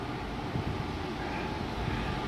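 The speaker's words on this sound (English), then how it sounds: "So you got my blowers going." Blowers run steadily to dry fresh paint on a recolor job, giving a continuous, even rushing roar of moving air with no breaks and no voices.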